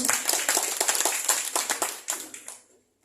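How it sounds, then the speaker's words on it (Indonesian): Scattered hand clapping from an audience at a Mother's Day women's association gathering in Indonesia: a quick run of distinct claps that thins out and stops after about two and a half seconds. "Tepuk tangan dulu."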